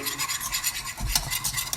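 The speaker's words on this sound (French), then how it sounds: "On remue tout de suite sur le feu avec le fouet." A whisk scrapes steadily through a thickening mixture in a saucepan on the heat, a continuous close rasping swish with a quick rhythmic beat and no talk.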